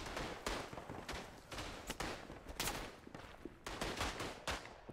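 Rapid gunfire from a World War I first-person shooter, Tannenberg, with repeated close rifle and machine-gun bursts in an irregular rhythm, loud and continuous with no talking.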